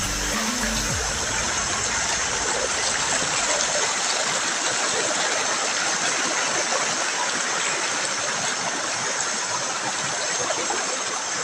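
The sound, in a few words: rushing flooded creek after heavy rain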